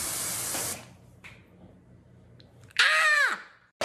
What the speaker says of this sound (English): Magic root cover. So this thing's awesome because it has a little nozzle that makes it really specific.